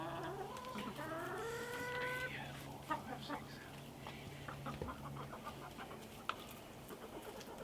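Hens clucking and calling in a coop on a cold winter day, soft overlapping bird calls with a steady low hum and small clatters, fairly close.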